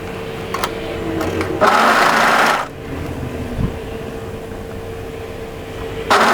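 A sewing machine stitches a tee shirt hem in short bursts of steady mechanical whirring, loud and close, with pauses between runs.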